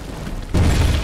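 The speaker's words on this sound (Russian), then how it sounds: "А это аппаратура взрывается." Equipment blows up in Wolfenstein, a sudden loud boom bursting in midway and rumbling on over faint background noise.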